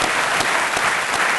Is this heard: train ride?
no